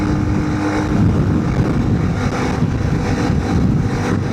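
Big bore Honda CRF300L Rally motorcycle engine pulling steadily uphill under throttle, a continuous loud droning roar with wind rush, sustained and even throughout.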